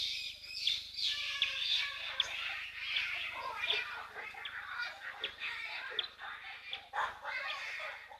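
A busy chorus of birds chirping and chattering nonstop at a waterhole, high and bright, with no talking.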